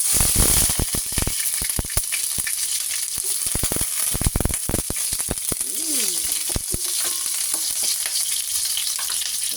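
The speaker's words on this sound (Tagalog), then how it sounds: "Ayan, mainit ng ating kawali. Ngayon, ilalagay na natin ang ating bawang." Garlic hits a hot pan and sizzles loudly, with sharp crackling pops and stirring scrapes over a steady frying hiss, close up.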